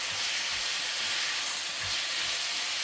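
Vegetables sizzling and steaming in a pot on the stove, a steady loud hiss with no gaps and no talk.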